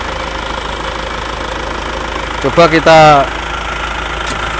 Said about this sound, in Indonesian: coba kita starter lagi gimana hasilnya tanpa filter